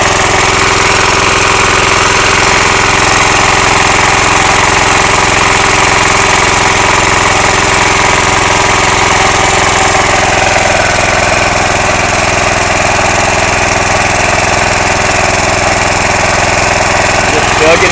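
A small engine-driven alternator charger, run off-grid as a power source for about ten years, drones steadily and loudly at close range for the whole stretch, a continuous even chugging hum with no pauses.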